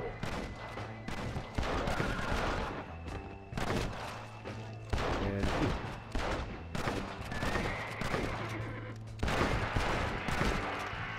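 Gunfire in Red Dead Redemption: Undead Nightmare comes as repeated bursts of shots at irregular intervals over a constant droning game soundscape, moderately loud and recurring across the whole stretch.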